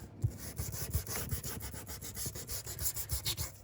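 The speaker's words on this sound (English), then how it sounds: "sand the edges." Close, rhythmic sanding strokes along the edges of a handmade paper craft wallet, a quick run of scratchy rubbing passes with no talking.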